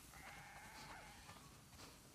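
Sheep bleating in The Last of Us Part II, faint overlapping bleats from a flock at a barn, a couple of drawn-out calls over soft, hissy background ambience with no talk.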